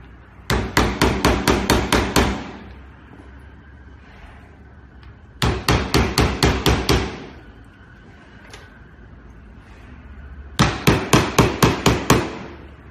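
A hammer pounds nails against a Nanoshield anti-shock protective film in three loud, separate bursts of seven or eight rapid, sharp strikes, with quiet pauses between them and no talking.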